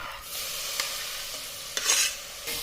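Tomato with garlic-ginger paste and a pinch of asafoetida sizzles and fries in a hot pan while being stirred, a steady close crackle broken by a few sharp scraping stirs.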